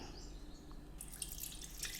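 Water is poured from a glass into a tea pan ahead of making ginger and mint tea. It gives a soft, steady trickle over low background noise, with a brighter splash in the second half.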